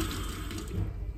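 Lukewarm tap water runs steadily into a sink to rinse a take-home teeth whitening tray, a close, continuous splashing flow with no talking.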